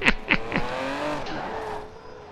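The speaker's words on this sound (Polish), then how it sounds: "Ja tu próbuję Astonem Martinem driftować." Aston Martin Vantage Superleggera drifting in Forza Horizon 4, with three quick bursts of tire squeal at the start, then a sustained engine whine that fades slightly as the car slides.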